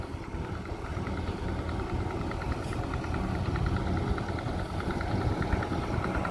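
A tractor engine idles while warming up on a cabbage harvesting job in Germany, a steady mid-pitched rumble with constant vibration, close and even throughout, with no talk over it.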